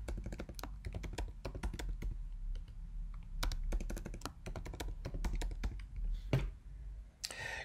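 An administrator password is typed on a computer keyboard in a run of quick, close clicking keystrokes with brief pauses and a few heavier taps near the end.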